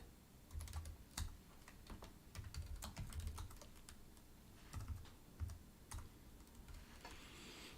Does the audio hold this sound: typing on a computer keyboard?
yes